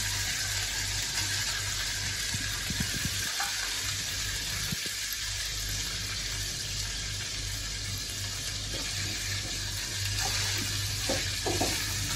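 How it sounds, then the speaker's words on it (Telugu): Boiled prawns frying in a pan with cashews, a steady loud sizzle with occasional stirring scrapes throughout. "ఇప్పుడు ఉడకపెట్టుకున్న రొయ్యలు వేసుకుందాం."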